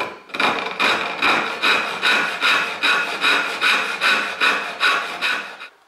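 A Japanese hand saw cuts through wood in a steady rhythm of about a dozen rasping strokes, each pull a loud, close, bright scrape, heard alone.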